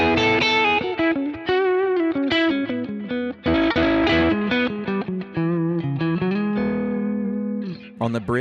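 Clean, warm electric guitar chords and single notes ring out with gentle reverb through a Kemper profile of a '65 Fender Deluxe Reverb amp, played continuously with brief pauses between phrases.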